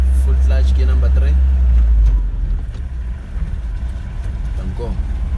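A car engine drones loud and low during a road driving lesson while shifting into third gear, then the revs drop and settle into a quieter running hum, with a voice talking over it.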